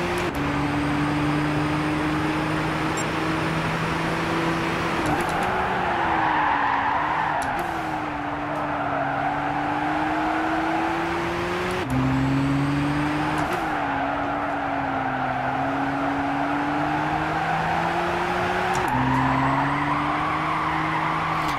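A race car in Gran Turismo 6 drifts at full throttle, its engine droning loud and steady for the whole stretch as tires squeal, with the pitch shifting through several gear changes and slides.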